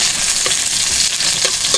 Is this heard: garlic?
yes